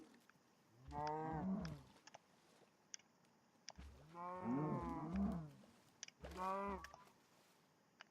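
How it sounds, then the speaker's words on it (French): A cow in a video game moos three times, each a drawn-out, low bellow with short pauses between them, clear and fairly close over a quiet background. "on va prendre cette vache"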